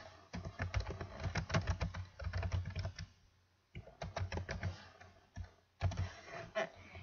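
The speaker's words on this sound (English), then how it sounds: "To put some text on your paper, all you have to do is start typing." Steady clatter of typing on a computer keyboard, quick irregular keystrokes in bursts separated by short pauses, close and fairly loud with no voices.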